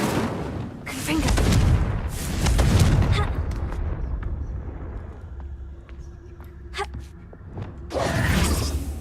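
Spell blasts from Confringo and Incendio in Hogwarts Legacy, loud booming bursts in several clusters, with a pause of quieter ambience in between before a final burst.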